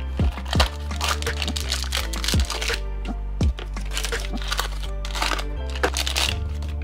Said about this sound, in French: On déballe nos petits roulements.